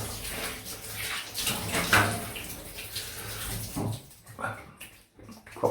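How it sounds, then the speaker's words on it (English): Water splashed over a freshly shaved face with a Karve Christopher Bradley razor, a steady wet sloshing and running-water wash close by that ends in a few quieter drips. "I'm just going to give a proper rinse."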